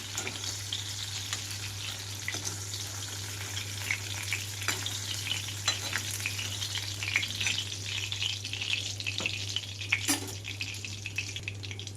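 Tomatoes frying in hot oil after red chillies, a close continuous crackling sizzle with scattered pops and occasional stirring scrapes over a steady low hum, with no talking.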